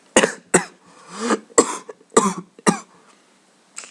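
Several sharp, harsh coughs in a row, close to the listener, with short pauses between them and a throat-clearing quality.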